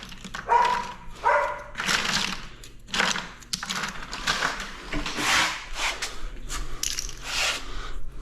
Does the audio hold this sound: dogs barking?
yes